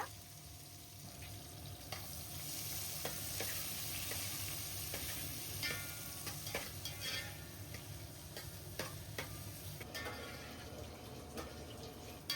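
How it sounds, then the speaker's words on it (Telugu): Chopped onions frying lightly in a pan for mushroom biryani, giving a continuous soft sizzle with scattered small ticks and crackles from the oil. "ఉల్లిపాయలు ఇలా లైట్ గా ఫ్రై అవ్వాలి"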